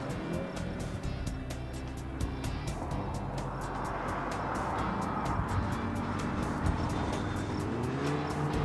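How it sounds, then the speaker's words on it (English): Volkswagen GTI with a DSG gearbox at speed on a race track, steady loud engine and road roar with a shift in tone midway as it brakes hard into a corner, continuous throughout with no talk. "Hard on the brake, come into the corners here."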